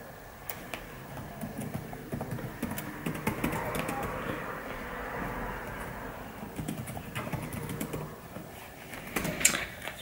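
Fingers typing on a computer keyboard in a home office, a steady close patter of key clicks running continuously, with a couple of louder strikes near the end.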